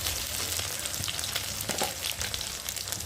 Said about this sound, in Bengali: তার জন্য একটু ভালো করে ভেজে নেব।